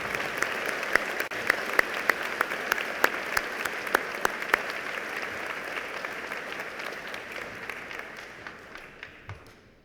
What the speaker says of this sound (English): how about a round of applause for that beautiful documentary?